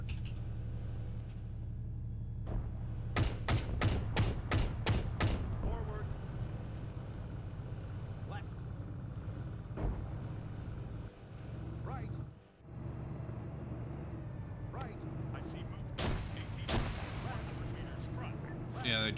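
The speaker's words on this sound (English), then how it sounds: "Definitely hitting me with grenadier shots." Grenadier gunfire in the Arma 3 military shooter, a rapid burst of sharp, loud shots followed by scattered further blasts over a steady engine rumble, with voices talking throughout.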